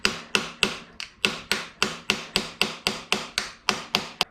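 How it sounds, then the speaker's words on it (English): A hammer striking a screwdriver set against a stuck screw in an Alto Works F6A twincam engine, about sixteen sharp metallic taps in a steady, evenly spaced rhythm, close and alone. "I'm gonna try this with a screwdriver"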